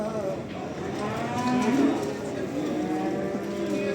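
Calves at a livestock market low and moo, one drawn-out call rising clearly near the middle over steady crowd murmur and distant voices.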